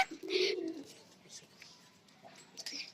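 A racing pigeon that has flown a 125-kilometre race gives a short, fairly close coo on a rooftop, followed by faint bird chirps in a quiet outdoor setting.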